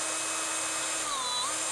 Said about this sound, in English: drilling through the threads on the shaft of my mill